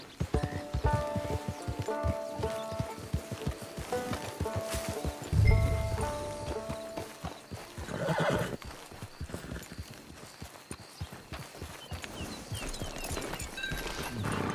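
Horse hooves clip-clop steadily in the Red Dead Online video game, with a horse whinnying partway through under a soft music bed, moderately loud and continuous.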